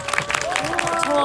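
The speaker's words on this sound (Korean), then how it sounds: "마지막으로 오늘 자리에 함께해 주신 김슬기 배우님, 김보라 배우님, 임세미 배우님, 박소진 배우님께 뜨거운 박수 부탁드립니다." Audience applause for four actresses at an outdoor talk event at the Jeonju film festival; crowd clapping and cheering under a voice speaking over a microphone, brief and steady.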